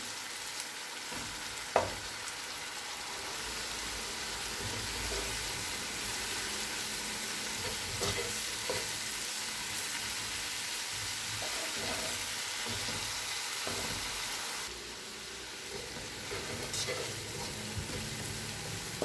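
Curry masala frying and being stirred in a pot, a steady sizzle that runs the whole time with scraping stir strokes on top and no talking.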